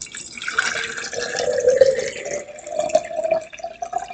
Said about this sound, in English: You pour the water in.